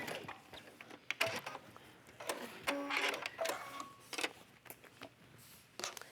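A sewing machine stitches a pleat into ribbed trim while a sports bra and tank are joined, giving short mechanical bursts of whirring and clicking with brief pauses between runs, close up and fairly quiet.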